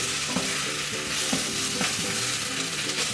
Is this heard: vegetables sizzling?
yes